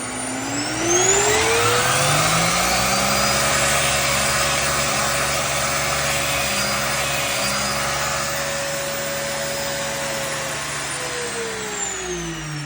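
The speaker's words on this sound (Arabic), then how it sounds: "مكنسة مميزة جدا الهوفر S7" Hoover Power 7 Advanced canister vacuum cleaner running at increased suction speed: a loud, close motor whine that climbs in pitch at the start, holds steady, then dips slightly near the end.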